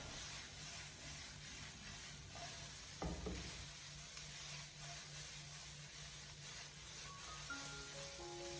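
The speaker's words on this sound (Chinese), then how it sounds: "开中火将它进行快速的翻炒一下，将其翻炒均匀，把辣椒的水分煸炒出来" Salted chili peppers stir-fry softly in hot oil over medium heat, a quiet steady crackle broken by one sharp clank of the spatula partway through.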